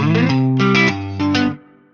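A short guitar VST melody in FL Studio plays with a copy doubled an octave lower, a few thick, plucked, distorted notes, close and alone, then fades out.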